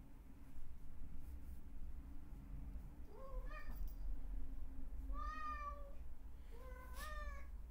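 Cat meowing indoors: three distinct rising-and-falling meows spaced a couple of seconds apart over a low, steady background hum, with no talk.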